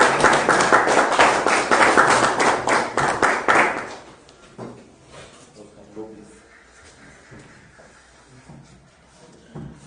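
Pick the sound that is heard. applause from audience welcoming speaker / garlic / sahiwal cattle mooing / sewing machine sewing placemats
applause from audience welcoming speaker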